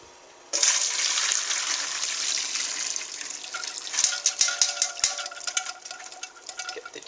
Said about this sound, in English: And pour the pan in there.